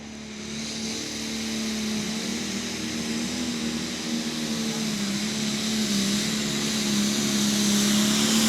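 A John Deere 6030 tractor at a tractor pull roars steadily under load, a loud, sustained engine drone that climbs slightly in pitch and volume across the run.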